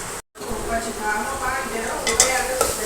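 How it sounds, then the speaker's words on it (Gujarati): Okra masala with garlic chutney is stirred in hot oil in a pan, giving a close crackling sizzle with scraping and a few metallic clinks of the spoon after a brief silent gap at the start. "તો જો આવી રીતે હલાવશું તો લસણવાળી ચટણી પણ બરાબર તેલમાં પકડાઈ જશે"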